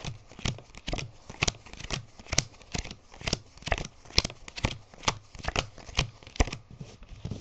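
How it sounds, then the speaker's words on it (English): Playing cards slapped down and flipped one after another on a table, a steady run of about a dozen crisp, close card snaps with no talking. "ask them to do is just to put them down, flip each one of them"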